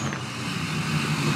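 A Duramax diesel truck engine drones low and steady while held on the brake, a close rumble for a brief moment with no talk.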